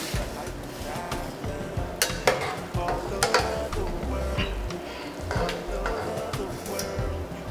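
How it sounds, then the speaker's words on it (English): Puff-puff dough frying in hot oil, a steady close sizzle broken by sharp stirring and scraping clinks from a utensil against the pot, with faint talk in the background. "I'm going to show you the 3 different ways that we fry this puff puff"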